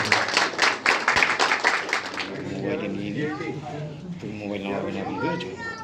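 Audience clapping at a Lions Club installation ceremony in Kolkata, welcoming new members: a burst of brisk, fairly loud claps for about two seconds, then fading as people talk and a voice is heard.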